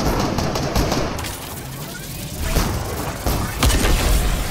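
Loud, sustained automatic gunfire and booming blasts from a Fortnite match fill the scene, dense and continuous with heavier thumps toward the end.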